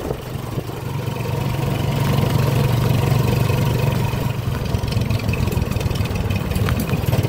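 A Honda TMX155 motorcycle fitted with a 210cc engine runs on a test drive, a steady close engine drone with a low throbbing hum, held at an even speed throughout, no talk.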